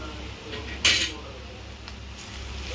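Utensil clinks against a pan while beetroot fry is stirred in a home kitchen, one sharp metallic scrape-clatter standing out over low background noise, with a couple of fainter taps after.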